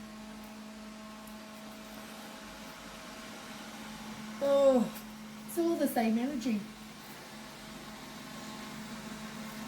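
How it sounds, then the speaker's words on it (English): A household vacuum cleaner runs as a steady, fairly quiet drone beneath a woman's brief speech, continuing unchanged through the whole stretch. "Sorry about my vacuum."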